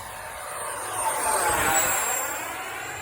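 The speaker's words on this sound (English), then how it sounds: "And that's the high speed pass" FMS 80mm Rafale RC scale jet with an electric ducted fan making a low high-speed pass, a steady airy whine that swells as the model approaches, peaks mid-pass, then fades away.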